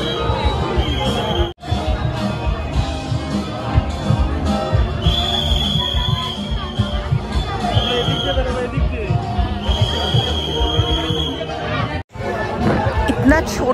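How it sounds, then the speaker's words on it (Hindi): Dense crowd hubbub fills a packed Durga Puja pandal in North Kolkata, a steady loud babble of many voices close around with brief dips, plus occasional high tones. "बट भीड़ इतना ज़्यादा है कि क्या बोले।"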